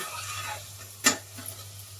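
Chopped tomato cooks with browned onion in a pan, giving a soft, low sizzle with one sharp utensil tap against the pan in the middle and a fainter knock shortly after.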